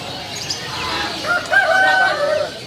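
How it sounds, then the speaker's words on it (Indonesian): Chickens cluck and call in a short burst of bird sounds, moderately loud and close, against a busy background at a bird market in Jakarta. "Ini gak cuma burung aja sih, ini ayam."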